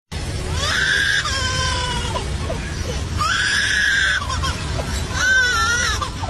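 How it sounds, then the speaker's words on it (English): Three loud, shrill, wavering calls from a lyrebird ring out one after another, close and harsh over a noisy background. "Lyrebird."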